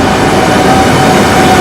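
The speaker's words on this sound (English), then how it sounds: "Here comes the train." A loud, steady rushing roar of a train pulling into a station in Milan, Italy, with a thin high whine running through the dense noise.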